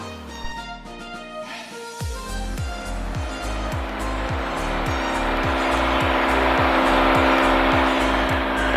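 A Cirrus SR22 light aircraft's piston engine revs up for the takeoff roll on the runway, a loud, steady propeller drone building from a lower idle into a full, even roar, heard from inside the cockpit.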